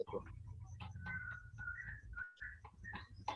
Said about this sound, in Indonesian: Soalnya yang masuk suara burung nih Pak